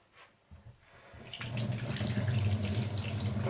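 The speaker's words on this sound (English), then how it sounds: "washing the apples here" Water from a kitchen tap starts up and runs steadily over apples being washed, a close splashing stream that builds in the first moment and then holds at an even level.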